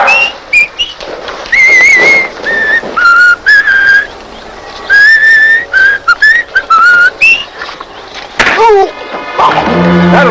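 A person whistles a lively melody of Swanee River, loud and close, in quick bright phrases, with a few thumps and knocks near the end.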